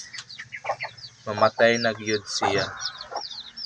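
A sick chicken clucks in short, uneven bursts close by, while someone speaks over and between the calls.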